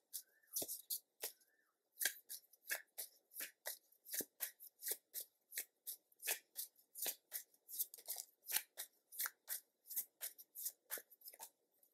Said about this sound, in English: I'm gonna pull out a few more cards.